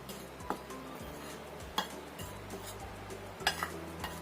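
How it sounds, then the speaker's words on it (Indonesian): Wheat flour and rice flour are stirred together in a bowl, with a spoon giving occasional soft scrapes and a few faint clinks against the side over a quiet kitchen background, with no talking. "Ini kita aduk dulu tepung terigu dan tepung berasnya."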